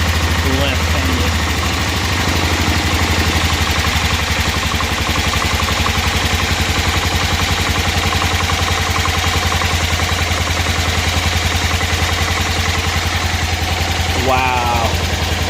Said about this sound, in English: Let's bring the idle down a little more.